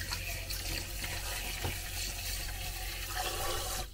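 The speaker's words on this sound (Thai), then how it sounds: "อันนี้คือปลาร้านะเราจะล้างก่อนนะคะนิดนึง" Norwegian fermented fish is rinsed under a running tap inside a camper van, giving a steady, close hiss and splash of flowing water that continues without a break for a few seconds.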